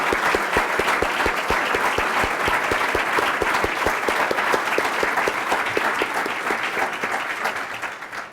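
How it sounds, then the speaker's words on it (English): Sustained, dense audience applause fills a luncheon hall at a 14th annual philanthropy leadership awards event, honoring the award recipients; steady and loud throughout, easing slightly toward the end, with no talk over it. "I'd like to ask that we give a final round of applause for Casey and for all of our"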